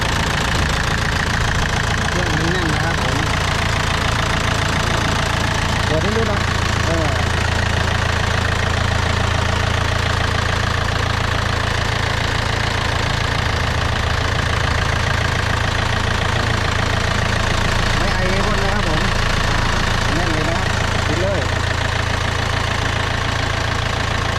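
A Yanmar EF453TLX tractor engine idles steadily with a loud, continuous low rumble and a faint knocking rhythm. The drone is close and unbroken throughout.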